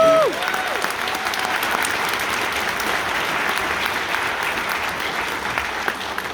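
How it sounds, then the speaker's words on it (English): An audience at a school honor band concert claps steadily, dense sustained applause filling the room, with a brief voice at the very start before the clapping takes over. "give Conda a round of applause"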